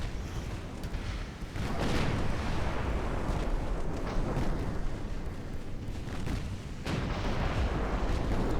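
Heavy naval guns boom in a dreadnought-era warship battle game, a continuous rumble of deep blasts and shell impacts rolling on with swells and a fresh surge near the end, no voices.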